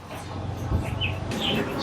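Birds chirp and call in short bursts at a busy bird market in Habiganj with pigeons for sale, while someone talks over them throughout.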